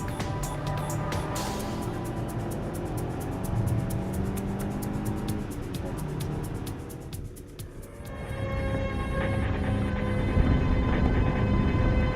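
A GT4 race car on a hot lap around the Miraval circuit, its engine droning loud and steady with rising and falling pitch through shifts, heard up close from onboard.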